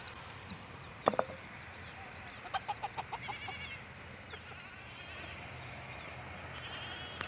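Sheep and lambs arrive in a rural yard, faint and somewhat distant, with a sharp double bleat near the start and a short run of rhythmic bleating calls over a soft background hiss.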